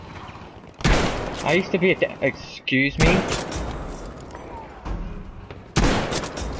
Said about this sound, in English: I'm shooting them and nothing's happening